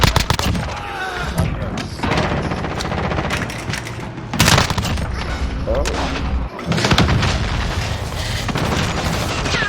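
Dense Call of Duty Modern Warfare gunfire: rapid automatic bursts, sharp shots and booming impacts come in waves, close and loud, with voices talking over the battle.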